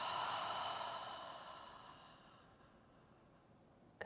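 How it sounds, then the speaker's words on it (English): One long, airy exhale fades out slowly after a deep breath, close to the mic and soft, ending in a small click. "Take a deep breath in. And exhale it all out."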